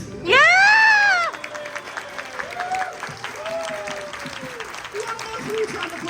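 At a charity auction during a cider festival, a high shout rings out over the crowd, then applause and cheering follow with scattered voices and whoops mixed through the clapping.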